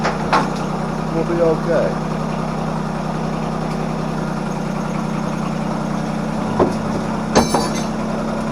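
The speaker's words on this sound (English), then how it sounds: "the tractor's running" A John Deere tractor engine idles close by with a steady low, droning hum, while someone talks briefly over it and a few knocks and clanks sound near the end.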